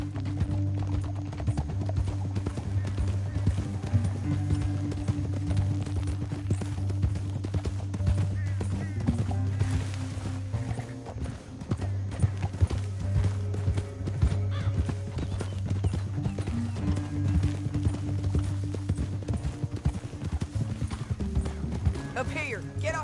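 Steady hoofbeats of horses galloping in the video game Red Dead Redemption 2, a continuous rhythmic clatter with a low rumble underneath, running without pause for the whole stretch.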